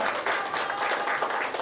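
Applause from an audience at an artistic makeup competition as a prizewinner and her model come forward, a steady dense wash of clapping running throughout at moderate loudness.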